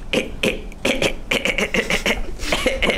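Several sharp, harsh coughs in quick irregular bursts, close to the microphone, with no talking.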